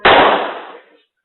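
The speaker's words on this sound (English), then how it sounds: "Moments later, a single gunshot is heard." A single sharp gunshot cracks out during a struggle between an officer and a man being restrained, a loud broadband burst that decays over about a second with no speech.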